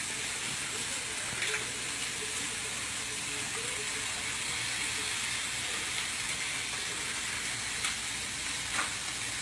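Grass-fed butter sizzling in a pan with broccoli and sweet potato, a soft, steady frying hiss with faint crackles throughout, fairly quiet and unbroken.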